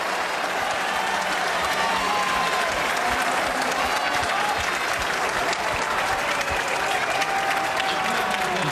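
A large crowd applauds steadily and loudly at a Japan v Canada Pacific Nations Cup rugby match in wet, cold conditions, the clapping dense and continuous throughout.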